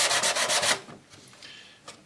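A wooden H-block part gets a rough sanding: loud, rhythmic rubbing strokes for under a second, then quieter scattered scraping.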